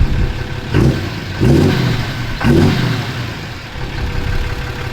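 A Ram Cummins diesel pickup truck engine revs up three times in quick pulses over a rumbling idle, loud and close.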